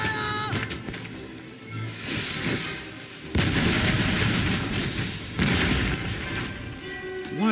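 Cannons open fire in a Napoleonic-era battle in Napoleon: Total War, heavy booming blasts that roll into a sustained rumbling barrage, loud and close.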